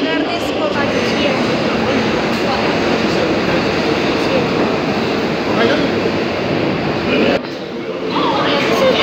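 The 42nd Street subway shuttle train arrives at Times Square, rumbling loudly and steadily nearby with broadband roar and clatter, briefly dipping near the end before the noise resumes.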